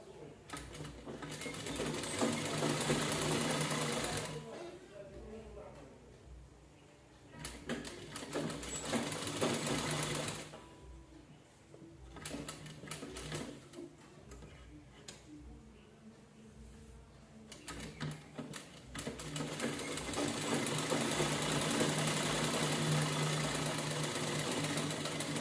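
A sewing machine runs in long bursts of rapid, even stitching on a princess blouse, pausing briefly between runs, with quieter gaps where the motor slows.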